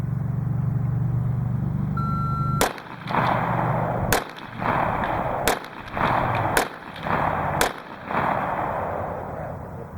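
Five sharp, loud handgun shots in quick succession over a few seconds, each a sudden crack above steady background rumble, preceded by a short electronic shot-timer beep.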